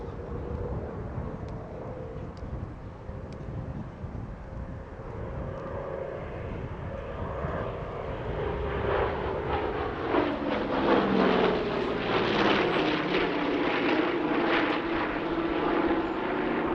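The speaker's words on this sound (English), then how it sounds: "Another very rare participant indeed, A-26C Invader Sweet Eloise 2." A-26C Invader twin piston engines droning at an airshow, a broad rumbling roar that swells louder in the second half as the aircraft passes, with no talk over it.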